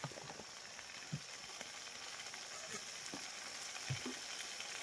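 Ground garlic, onion and ginger paste fries in a pan with a steady, soft sizzle throughout, with occasional faint stirring clicks and knocks.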